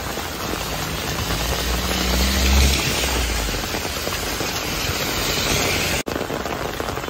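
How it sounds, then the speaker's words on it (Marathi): Heavy monsoon rain pours on a flooded Mumbai street, a dense continuous hiss filling the scene at close range, with a faint low rumble beneath and no talking. "एवढा हा पाऊस पडते."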